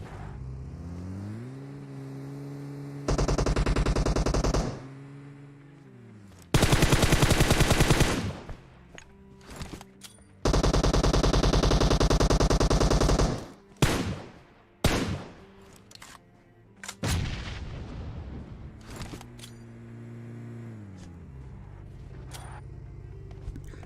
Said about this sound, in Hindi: अब यहाँ पे जितने ग्रेनेड थे मैंने सारे के सारे डाल दिए